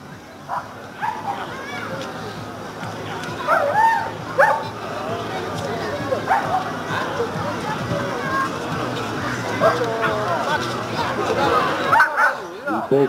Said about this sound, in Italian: È un cane combattivo